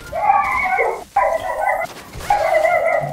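Dogs in a video game barking and yipping in three short bursts separated by brief pauses, close and fairly loud, with no talk over them.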